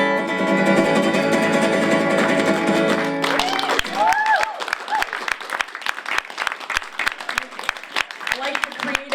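A house-concert audience applauds loudly in a dense wash, then breaks into sharp, rhythmic claps in uneven patterns, with voices and singing heard among them.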